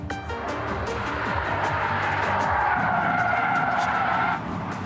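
Tires skid and squeal continuously as a Brabus car slides through a drift, engine droning underneath, loud and close with no voices.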